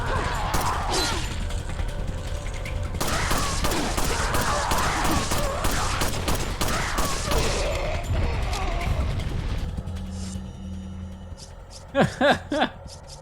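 Gunfire in Resident Evil 4 as rapid crackling volleys and mechanical clatter over most of the scene, fading to quieter ambience before a few sharp closing bangs, with a voice talking faintly under the action.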